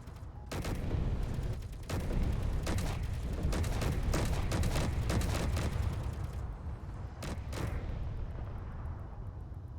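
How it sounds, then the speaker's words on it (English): Sustained gunfire in Space Engineers as a top emplacement is shot, loud dense volleys of rapid shots with heavy booming low end running almost nonstop, briefly thinning near the end before two more bursts. "Now we're shooting the top emplacement."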